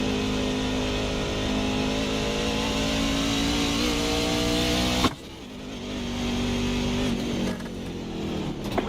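A NASCAR truck engine drones loudly from inside the cab while racing at Qualcomm Circuit on Naval Base Coronado, then drops off abruptly as the driver lifts and climbs again in revs.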